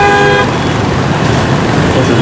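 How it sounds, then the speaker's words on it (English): Dense Saigon street traffic in Vietnam, with a loud car horn tooting steadily for about half a second at the start, then a continuous roar of engines and road noise from many vehicles close by. "This is normal Saigon traffic."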